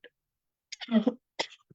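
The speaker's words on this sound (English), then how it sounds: "I have a cough that won't go away" A short cough from someone getting over a cold, a throat-clearing burst followed by a second quick cough, close and alone in quiet.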